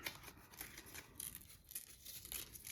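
Paper rips into small squares and rectangles in a string of short, close, quiet tearing bursts with light crinkling between them.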